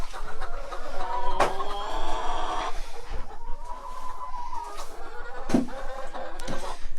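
Chickens cluck and murmur inside a coop in below-zero winter weather, their calls rising and falling close by, broken by a few sharp knocks and thumps.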